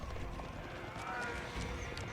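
Horse archers on the move in the Age of Empires video game, their hooves clattering as a steady, moderately loud clip-clop under battle noise.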